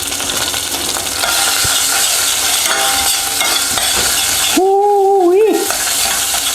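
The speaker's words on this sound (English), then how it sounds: "Nice and steady, just cook off that paste a little bit." Green curry paste frying in a pan, a loud continuous sizzle with steady stirring throughout, and a brief whistling tone near the end.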